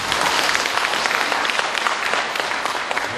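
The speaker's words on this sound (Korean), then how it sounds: "공감하시면 박수 한번." Audience applause fills the space continuously and loudly, a dense steady wash of many hands clapping from a crowd gathered at a political speech in Gwanak district, with no talk over it.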